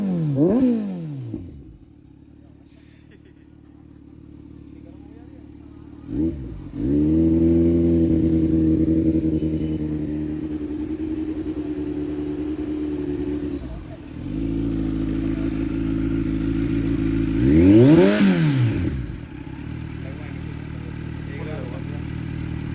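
A Kawasaki Z900 four-cylinder motorcycle with an Arrow exhaust idles with a deep rumble, then rises into several sharp revs that fall back to idle. People talk over the engine throughout.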